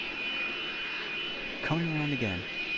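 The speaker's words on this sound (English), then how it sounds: "So that C-17 is coming around again" A Boeing C-17 military transport aircraft flies overhead as a steady, loud engine roar, rising with a brief falling whine near the end.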